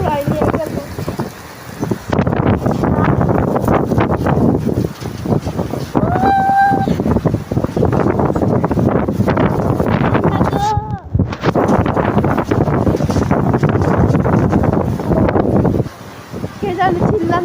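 Blustery wind during a rainstorm rushes loudly and steadily across the microphone, easing for brief moments, with people's voices and shouts mixed in throughout.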